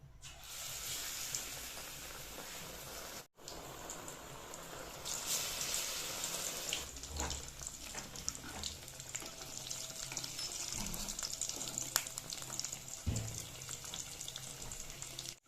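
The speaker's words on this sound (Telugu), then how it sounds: "కట్ చేసుకున్న బ్రెడ్ని అయితే శనగపిండిలను అయితే ముంచుకొని ఆయిల్లోనైతే వేసుకుంటున్నాను" Bread slices dipped in gram flour batter sizzle as they fry in hot oil for bread bajji, a continuous crackling hiss with scattered pops, faint and close, broken by one short gap.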